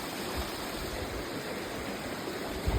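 A waterfall running with little water gives a soft, steady rushing hiss heard at a distance, constant and uninterrupted, with no voices.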